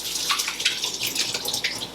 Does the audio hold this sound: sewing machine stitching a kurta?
no